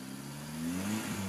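Mitsubishi engine running and being checked for hydraulic lifter ticking, with a torn piece of belt present; a steady, low, close hum that rises slightly in pitch as the engine revs up a little.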